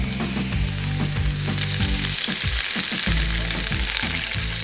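Shredded potatoes hit a pan of softened onions and fry in a loud, dense crackling sizzle with a few stirring scrapes, close and continuous with no voices.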